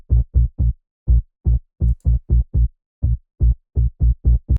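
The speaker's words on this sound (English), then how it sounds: "I copied it to two bass sounds, a very low bass and a more like subby bass." Layered Afro Tech bass synths, one very low and one subby, play a rhythmic pattern of short punchy dark notes in uneven groupings, loud and alone with silences between hits.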